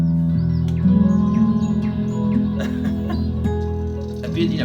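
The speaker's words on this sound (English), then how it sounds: "But I'll just play the birds." Birdsong closing an album: quick, high, falling chirps repeat over sustained low musical tones, moderately loud and clear.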